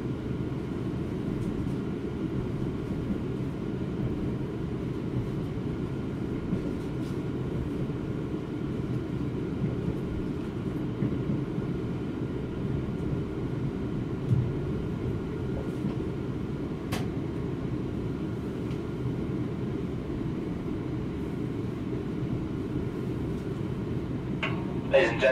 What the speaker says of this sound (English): Train is now approaching its final stop.